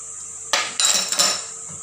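Metal utensil scraping and clinking against a pan as melted butter and vanilla essence are stirred together, a few quick close knocks and scrapes in a short burst.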